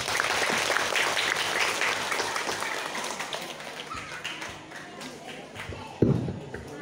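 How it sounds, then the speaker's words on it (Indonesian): An audience claps hands at a Maulid Nabi celebration with a nadzom recital, a fairly dense round of applause that gradually thins and fades, ending with a single dull thump. "Coba boleh tepuk tangan."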